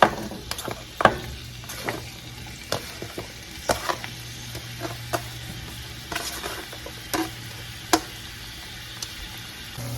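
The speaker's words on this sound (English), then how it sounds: "here I'm going to cook the shrimp. I just put them all together at the same time" Shrimp, onion, bitter melon and garden-grown tomatoes sizzle together in a pan, a constant frying hiss broken by repeated clinks and scrapes of a utensil stirring, close and fairly loud.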